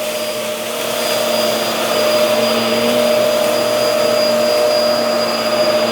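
A Hoover WindTunnel All-Terrain upright vacuum cleaner runs steadily with its brushes turning, giving a close, even whir and hum that holds at a moderate level throughout, with no one talking.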